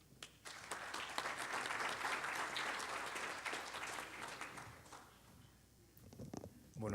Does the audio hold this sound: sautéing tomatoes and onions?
no